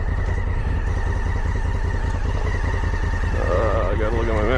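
Motorcycle engine drones steadily and loudly up close while climbing a sandy trail on Rampart Range Road in Colorado, with a slight rise in pitch near the end as the rider shifts down a gear.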